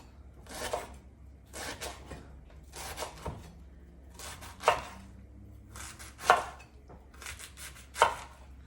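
Cabbage leaves are sliced into strips for soup on a cutting board, giving about seven short bursts of rapid knife chops, some ending in sharper knocks, close and clear with no voices.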